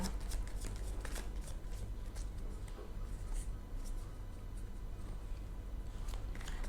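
Tarot cards being shuffled for a reading: a quiet, continuous riffling and sliding of cards with small flicks and taps, close and soft, with no clear speech.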